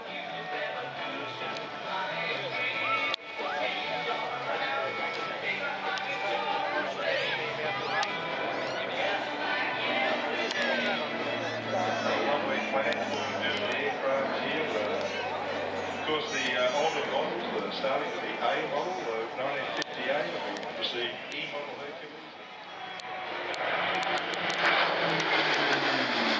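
An RAAF C-130 turboprop flies a display at the Avalon Airshow, its engines giving a steady, loud, broadband roar that holds throughout, with a brief dip before rising again; a commentator talks over the aircraft noise.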